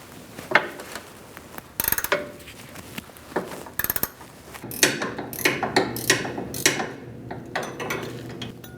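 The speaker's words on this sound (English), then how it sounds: "To keep that stud still, I'm going to use my ratchet wrench to loosen up the nut." Ratchet wrench loosening a sway bar link nut on a 2016-2019 Chevrolet Cruze: sharp metallic clinks and bursts of rapid clicking, close and fairly loud, with short pauses between strokes.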